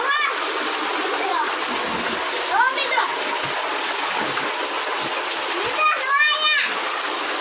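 Children splash in continuously running water while bathing outdoors, a steady broadband rush of water with splashes and kids' voices and shrieks rising over it.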